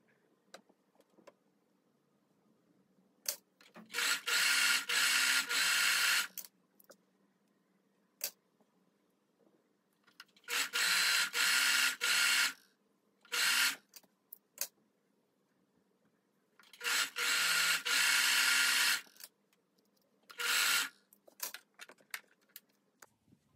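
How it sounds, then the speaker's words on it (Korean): Overlock sewing machine stitching fabric edges for a blouse, loud whirring bursts of several seconds each alternating with quiet pauses and a few short runs, close by, no talking. "모든 가장자리에 오버록 스티치를 해줍니다"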